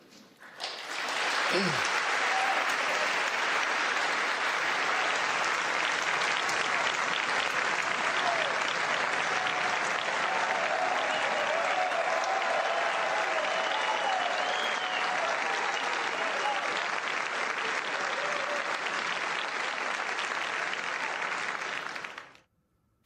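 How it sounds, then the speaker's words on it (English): Members of Congress give a standing ovation with cheering, a long, sustained roar of applause that swells up and holds evenly for over twenty seconds before cutting off abruptly, some faint voices mixed in. "Standing ovation for checks and balances, cheering for checks and balances."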